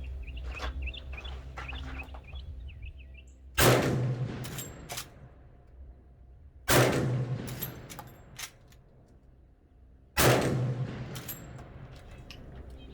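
Three loud, sharp rifle shots from a Marlin 1895 45-70 lever-action fitted with a Ranger Point Precision muzzle brake, evenly spaced outdoors, each with a ringing echoing tail, with birds chirping faintly between.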